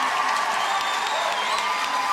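A crowd at the Rolex Stadium during an equestrian event, cheering and whooping steadily from a distance, with a dense, continuous roar and some applause throughout.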